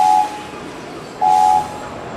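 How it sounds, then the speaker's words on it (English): Two short toots of a cartoon steam engine whistle from a Thomas & Friends game, a brief blast then a longer one after a pause, clear and close over a faint rumble. "Just listen to my whistle."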